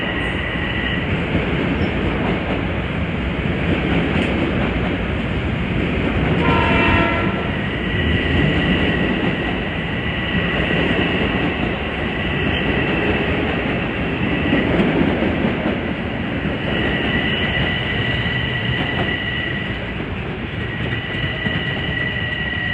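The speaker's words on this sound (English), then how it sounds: "Coming from behind is 664 from Southeast to Grand Central." A Metro-North train, number 664 from Southeast to Grand Central, rolls past on the Harlem Line with a loud, steady rumble of wheels and a high whine that swells and fades over about twenty seconds.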